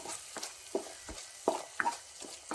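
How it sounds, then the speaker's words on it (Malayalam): Ground tomato, garlic, ginger and cashew paste stirred in a pan, with soft scraping strokes at an uneven rhythm over a faint, low sizzle. "ഒഴിച്ച് നമുക്കിത് ഇളക്കി കൊടുക്കാം."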